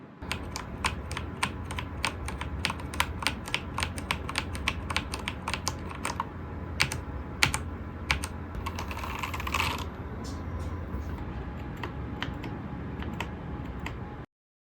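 Rapid, steady clicking of a computer keyboard being typed on, close and continuous with no voices.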